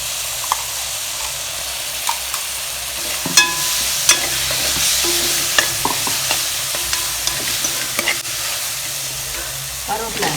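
Tomato, ginger-garlic paste and green chillies frying in a pan with onions, a loud continuous hiss and sizzle broken by repeated scraping and clinking stirs of a spoon against the pan.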